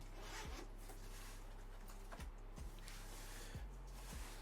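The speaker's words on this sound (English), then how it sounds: "It's a material felt type of casing. So what I'm going to do is I'm going to open it up here on camera." A zipper being pulled open around a felt-material tattoo machine case, with several short quiet rasping runs separated by brief pauses, close by.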